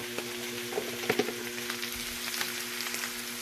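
Sautéed shrimp paste (alamang) and chili frying in a hot pan for ginataang, a continuous soft sizzle with faint crackles and a few stirring clinks, close and alone without speech.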